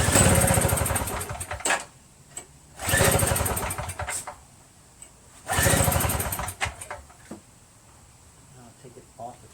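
A Tecumseh 5HP engine on an MTD Yardman single-stage snowblower, primed with starting fluid through the carburetor, fires up in three separate surging bursts that die back each time, with sputtering between them and a voice talking at times.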